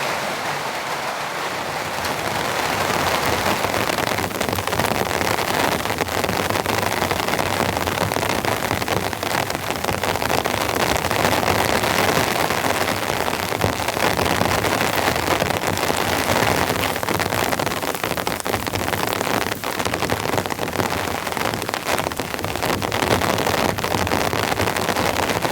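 Heavy torrential rain pours steadily onto the tin roof of a remote cabin during a rainstorm, a loud, dense, unbroken drumming hiss that continues throughout with no voices.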